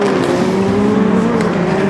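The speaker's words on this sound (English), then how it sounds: "Okay, so the GCK cars cross the finish line." GCK electric rallycross cars race toward the finish line, a loud steady whining drone of engines close by with constant tire and track noise, no voices heard.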